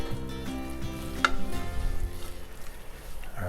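A sauce for Greek moussaka is stirred in a pan on the stove, with a steady close sizzle and soft scraping strokes from the spoon, and no talk over it.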